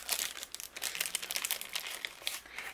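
Chipboard stickers for a handmade 5x7 Christmas card handled up close, giving quiet, continuous crinkling and light papery crackles with small sharp ticks throughout.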